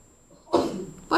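A single sharp sneeze bursts out after a quiet moment, followed by a brief second burst of breath right at the end.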